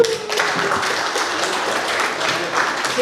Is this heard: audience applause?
yes